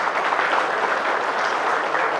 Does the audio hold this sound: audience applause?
yes